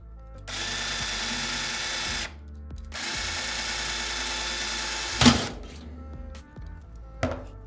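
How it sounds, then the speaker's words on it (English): Power drill boring through a pop rivet to drill it out, two sustained high-pitched whirring bursts of about two seconds each, separated by a pause, then a sharp metallic clunk and a couple of faint knocks afterward. "Successfully drilled a hole right through it, and the pop rivet came out from the other end."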